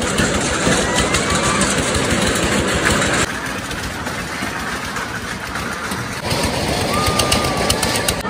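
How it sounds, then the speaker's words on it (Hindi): An engine runs steadily as a ride gets underway at an Eid outing, a loud continuous low rumble with shifting intensity, mixed with crowd noise and some voices. "ये भाईजान इंजन चालू कर दिया है।"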